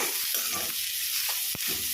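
Food frying in oil for a colocasia root and spinach dish, a close, steady sizzle with brief stirring scrapes and one sharp clack from the pan.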